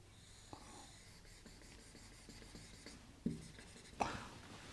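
A pen scratches on paper while drawing, a faint, close, intermittent scribbling with a couple of sharper taps.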